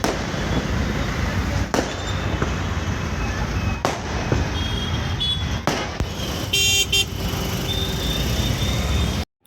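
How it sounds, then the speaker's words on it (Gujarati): Firecrackers burst at a crowded Hanuman temple festival, sharp loud cracks spaced every couple of seconds over a busy background of crowd noise, traffic and a car horn. "એવા મસ્ત એવા ફટાકડા ફૂટતા હતા"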